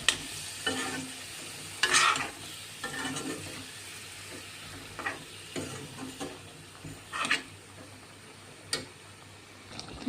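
Brinjal (eggplant) curry fries in a pan while being stirred, with a soft continuous sizzle and scattered scraping strokes of the spoon against the pan, some louder than others.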